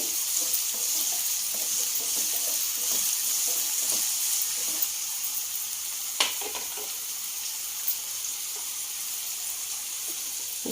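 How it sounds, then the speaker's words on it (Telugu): Chopped green chillies fry in a pan of hot oil for mushroom fried rice, a steady loud sizzle running throughout with a few sharp pops and clinks near the end. "పచ్చిమిర్చి వేసుకున్నామండి."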